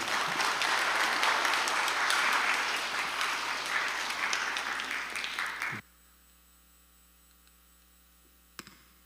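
Loud applause from a large church congregation at a Sunday service claps steadily for several seconds, then stops abruptly, leaving a quiet room with a faint electrical hum.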